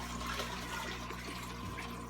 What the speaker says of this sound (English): Slowly pour the water back in.